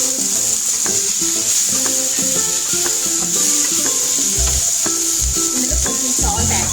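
Boiled raw banana pieces fry and get stirred in a pan with asafoetida, a steady sizzle running throughout with repeated scraping and knocking of the spoon against the pan.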